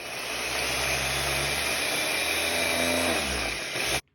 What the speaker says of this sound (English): I'm just only going to go ahead and grind the onions, the small red onions, and the curry leaves together.